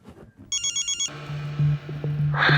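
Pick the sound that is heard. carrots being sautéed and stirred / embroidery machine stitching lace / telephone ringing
telephone ringing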